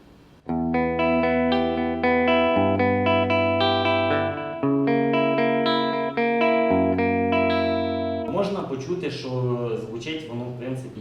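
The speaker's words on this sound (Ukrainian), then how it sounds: "Звук став справді більш кімнатним." An electric guitar runs through a digital reverb pedal set to room mode, playing sustained chords with a roomy ambient tail. A louder, busier strum comes near the end.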